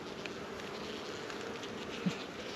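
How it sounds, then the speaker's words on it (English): Bees buzz steadily around a beekeeper's hand as they feed off it during a spring hive check, a faint continuous hum with a soft thump near the end. "Bees eating off my hand."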